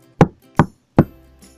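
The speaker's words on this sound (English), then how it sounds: "She knocked again." Three solid knocks on a cottage door, spaced about a beat apart and heard up close, each ringing briefly on the wood, with a faint trailing tap at the end and no talking.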